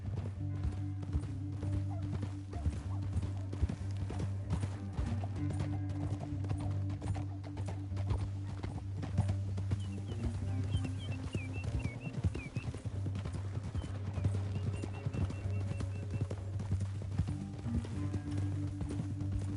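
Horse hooves clip-clop continuously in Red Dead Redemption 2 over a low rumbling music bed, with an occasional whinny, steady and moderately loud throughout.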